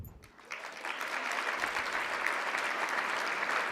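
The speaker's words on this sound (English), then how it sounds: "So please give them a round of applause as I introduce them to you." A gala audience breaks into sustained applause for jury members being introduced, a dense wash of many hands that swells after a soft start and holds steady at moderate volume.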